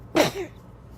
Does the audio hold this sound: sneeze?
yes